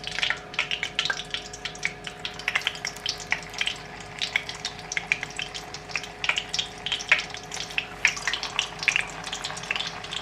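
Churro bites fry in a pan of oil, a steady crackling sizzle of dense pops and hisses that continues for about ten seconds, close and fairly loud, with a faint steady hum beneath.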